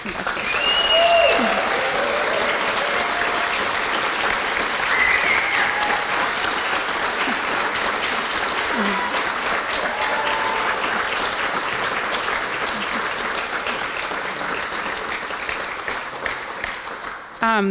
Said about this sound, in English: I'd just like everyone to give them a round of applause